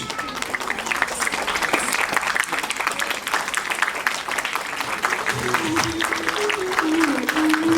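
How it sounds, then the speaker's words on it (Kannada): An audience at a dance debut recital applauds continuously for several seconds, a dense patter of many hands, with a faint voice or tone rising near the end. "ಜೋರಾಗಿ ಚಪ್ಪಾಳೆ ತಟ್ಟಿ ಅವ್ರಿಗೆ ಹೇಳಿ"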